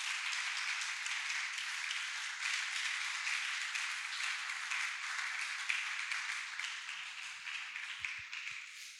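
A church congregation applauds in a sustained, dense patter of many hands clapping together at moderate distance. The applause continues steadily throughout.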